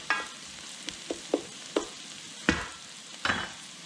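Onions sauté in a pan, a soft sizzle under repeated spatula scrapes and taps that fall every half second or so, close and distinct, with no voices.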